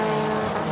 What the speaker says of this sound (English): The Mike Boat prepared car of Corey Paget goes through